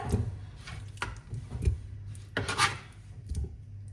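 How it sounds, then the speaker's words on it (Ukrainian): A knife chops food into small cubes on a board, giving a series of soft, irregular taps and scrapes close by, spaced roughly every half second. "Коротше, я ріжу це десь такими кубіками"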